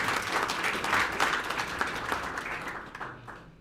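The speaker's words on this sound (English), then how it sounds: "So big round of applause to Jacques." Audience at a book launch applauding a sponsor, many hands clapping in a thick, lively burst that thins and fades toward the end.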